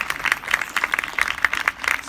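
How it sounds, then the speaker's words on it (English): Audience applause at a school dance event, a steady spread of clapping from a crowd in a hall, moderately loud and continuous across the moment with no talking over it. "Ladies and gentlemen, a big round of applause."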